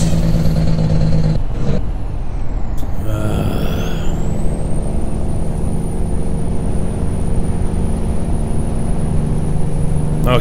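A truck hauling a livestock trailer in American Truck Simulator slows down, with a sharp air-brake hiss and a dropping engine note before a steady idle-like drone and a thin high whine, loud and close with no talking.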